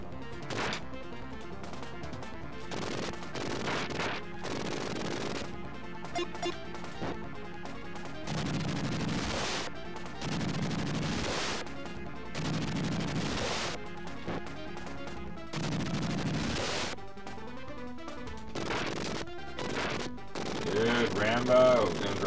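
Rapid game gunfire aimed at tanks in Rambo III on the Sega Genesis, with repeated bursts of shots and crashing impacts continuing steadily, layered over game music and effects.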